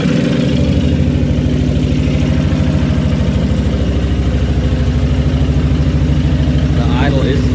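A cold Can-Am engine, fitted with an aftermarket ECM and a slightly raised idle, rumbles steadily at close range, a dense continuous idle with no clear start-up burst.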